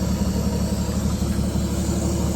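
A 1956 Chevy 210 engine with a sticking choke runs steadily, a loud, even low rumble that holds without change for the whole stretch, close by and with no voices.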